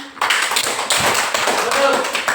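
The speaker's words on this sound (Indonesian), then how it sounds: "Silakan tepuk tangan." Clapping from a classroom audience, a dense burst of hand claps filling the whole moment at steady loudness, with faint voices mixed underneath.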